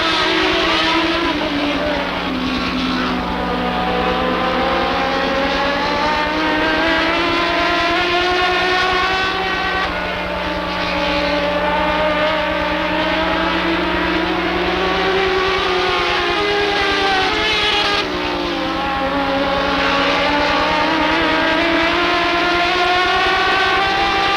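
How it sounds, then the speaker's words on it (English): Race cars accelerating together at the green flag on an oval speedway, a loud sustained engine roar with rising and falling pitch sweeps as the pack passes close by, continuous throughout. "So here they come, ladies and gentlemen, as they accelerate and get a green flag, we're racing."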